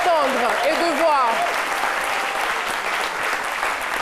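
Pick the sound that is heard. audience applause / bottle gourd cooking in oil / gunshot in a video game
audience applause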